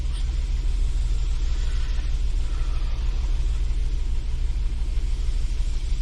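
A 2007 Jeep Wrangler JK engine fitted with an aluminum throttle body runs steadily, a constant low rumble with no change in pace throughout, heard alone without talk.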